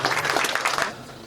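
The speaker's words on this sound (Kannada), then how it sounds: "ಜೋರಾದ ಚಪ್ಪಾಳೆ ಬರಲಿ." At a film premiere, an audience breaks into a short burst of applause, dense clapping that rises quickly and then fades away within about a second.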